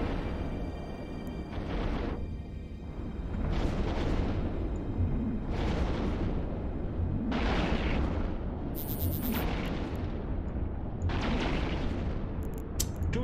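Ship weapons firing in space combat, a series of heavy booming volleys about every two seconds, each a loud broad burst that rings out over a constant rumbling background.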